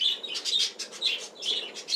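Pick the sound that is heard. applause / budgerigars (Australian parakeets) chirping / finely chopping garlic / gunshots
budgerigars (Australian parakeets) chirping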